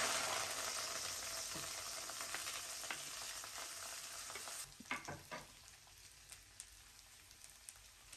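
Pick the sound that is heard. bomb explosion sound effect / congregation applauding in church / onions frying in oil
onions frying in oil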